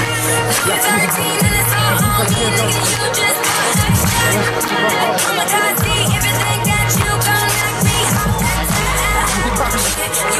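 At a Koszalin basketball event, a large crowd cheers and applauds a freestyle basketball performer, a dense continuous roar of clapping, whistles and shouts, loud and close throughout.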